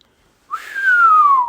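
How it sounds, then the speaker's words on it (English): A person whistles one sustained note that slides slowly downward for about a second, clear and close, with no talking over it. "I can't whistle right now."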